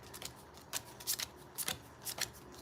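A deck of cards gets a light, brief shuffle, with several soft riffling bursts and flicks coming in an uneven rhythm, close but quiet, with no talking.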